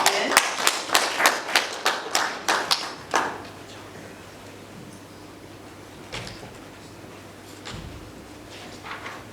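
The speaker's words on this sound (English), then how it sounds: "Applause to Jane." A short burst of sharp, rhythmic hand claps from a small audience for Professor Jane Amboko at a university agriculture research event, fading after about three seconds into a quiet room with a few faint knocks.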